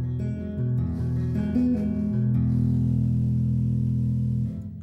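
Bass guitar played with two-handed tapping runs a scale, with tapped notes flowing smoothly one into the next in the low register, then settling on a long sustained low note that fades out.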